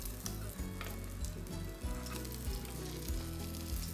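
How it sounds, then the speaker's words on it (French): A foie gras escalope pan-fries without fat over low heat, producing a steady, dense sizzle with crackling pops and a faint low hum beneath, close and unbroken, with no voices. "je taille une très jolie escalope de foie gras que je fais poêler sans matière grasse à feu plutôt doux"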